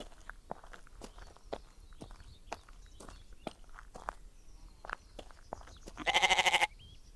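Steady footsteps crunch along, then near the end a single goat lets out a short, loud bleat.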